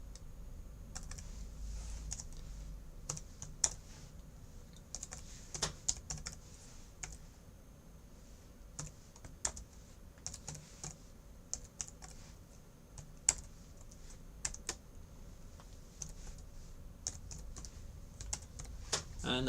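Numbers being typed on a computer keyboard, a quiet, irregular run of key clicks in short bursts over a low background hum, with faint talking at times.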